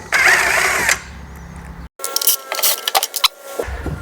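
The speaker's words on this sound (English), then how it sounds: "I'll pull this out and see if we can get to the winding mechanism." Clicks, rattles and scraping ring out as the recoil starter cover is worked off a Briggs and Stratton small engine, short metallic mechanical bursts close by, broken by a brief silent gap.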